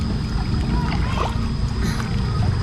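Hands paddling river water while lying face-down on an inner tube on the Nam Song in Vang Vieng, Laos, with close, continuous splashing and sloshing under outdoor ambience.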